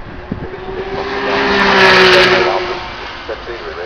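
One-off Alfa Romeo prototype racing car climbing the Goodwood Festival of Speed hill, its engine note rising to a loud passing roar around the middle, then fading, with voices talking over it.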